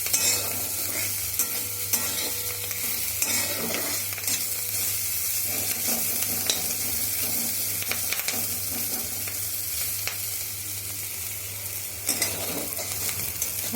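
Onions fry in a pan on the stove, a steady close sizzle broken by repeated scraping stirs of a spatula, moderately loud, with no voices.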